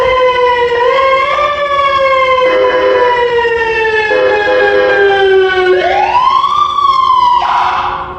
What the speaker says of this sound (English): It also gives you 6 very nice siren tones